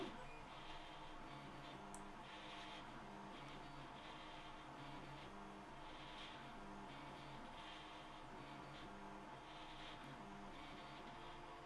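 3D printer running with its power supply fan nearby: a steady fan whir under a repeating rhythmic pattern of stepper motor tones and movements, heard from a little distance, with no talk.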